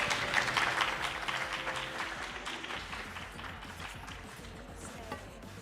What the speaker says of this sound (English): Can give them one more round of applause